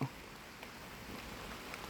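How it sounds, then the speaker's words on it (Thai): Rain falls over a Thai vegetable garden, a soft, continuous patter at low volume, with a faint knock at the very start. "ฝนตกแล้ว"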